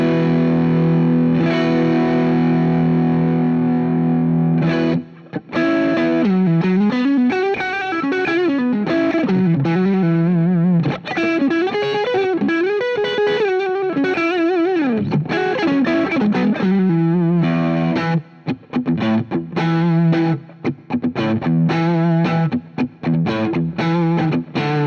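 Overdriven electric guitar through a Wampler Moxie pedal, voice toggle set to the right position, plays a loud continuous riff of chords and single-note lines with short pauses, bright and saturated throughout with no talking.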